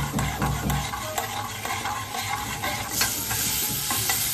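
Onions being stirred and fried in a pan for Bengali egg curry, with a continuous close sizzle and repeated scraping strokes of a spoon.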